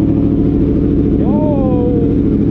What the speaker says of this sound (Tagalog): Naririnig ko na si Kuya Anthony, nagpapainit na ng makina doon.